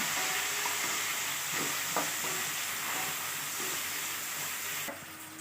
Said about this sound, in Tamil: கூடவே தேவையான அளவு வெங்காயம், தக்காளி ரெண்டுத்தையும் ஆட் பண்ணி நல்லா வதக்கி எடுத்துக்கலாம்.